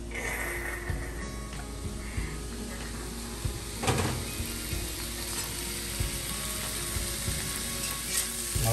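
Bacon sizzles and crackles steadily in a hot pan as its fat renders out for a Thai stir-fry with chili and salt, a continuous close hiss broken by occasional scrapes and clatters of the utensil.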